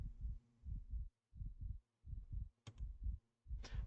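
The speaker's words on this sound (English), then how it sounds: "and the heartbeat" Heartbeat sound effect in the World End Economica visual novel: soft, low, muffled thumps in regular double-beat pairs, about four cycles, close and steady, with a couple of brief clicks near the end and no talk.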